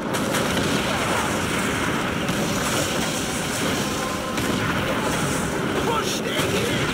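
A boat engine in the Call of Duty: World at War campaign drones steadily under wind and water noise, loud and continuous, with shouted voices now and then.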